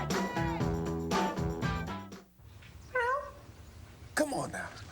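A house cat meows in a few short, clear calls mixed in with a woman's speech, during an ad for cat litter.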